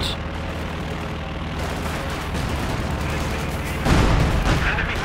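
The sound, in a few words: machine gun fire and grenade in a war video game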